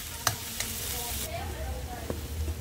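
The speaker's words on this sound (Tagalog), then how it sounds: "Igisa natin ang garlic at saka onion" Garlic and onion sautéing in butter in a frying pan, a close, steady sizzle with a few soft clinks and scrapes of a utensil stirring.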